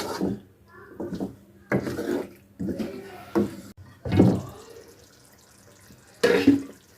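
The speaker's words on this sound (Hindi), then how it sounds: "मैं 1 कप पानी डाल दूंगी और इसे ढाँप के पकने के लिए रख देंगे" Water is poured into a pot of potatoes during cooking, heard as a few separate splashing pours and knocks spaced out with quiet gaps in between.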